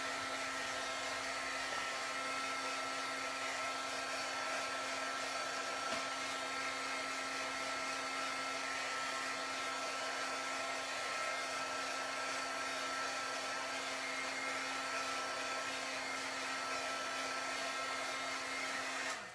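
Heat gun blowing continuously at a steady, even pitch while drying a sepia watercolor card, a constant airy whoosh with a faint hum and no talk.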